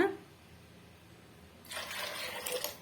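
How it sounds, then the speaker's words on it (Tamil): After a quiet stretch, about two cups of water pour steadily into a pot of dal with salt and turmeric for about a second, a close, splashing rush. "இப்போ ரெண்டு கப் அளவுக்கு நம்ம தண்ணி சேர்த்துட்டோம்"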